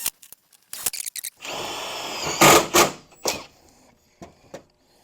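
Power drill driving screws into the frame of a DIY cargo box on a Ford F150, with short bursts and a longer whirring run, close and fairly loud, with pauses between.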